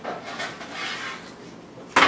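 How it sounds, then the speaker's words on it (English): A knife chops garlic on a cutting board while making Italian meatballs, a few soft taps followed by one sharp, loud knock near the end, no voices. "Chop up the garlic."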